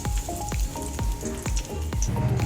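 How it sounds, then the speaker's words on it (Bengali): Nigella seeds sizzle steadily in hot oil as a spice tempering for a morla fish curry, with a crackling frying hiss and regular soft knocks about every half second. "ওই জন্য আমি কালো জিরে ফোড়ন দিচ্ছি।"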